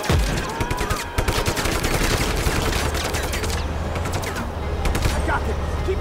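Dense, continuous gunfire in Just Cause 3 crackles as a steady barrage of rapid shots over a low rumble, with a voice talking over it.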